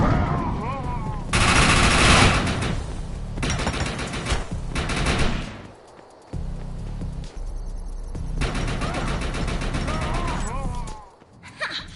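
Automatic gunfire from a sentry gun in the video game Defiance 2050, with loud sustained bursts that break off for short gaps and then resume over game music and effects, with occasional voices.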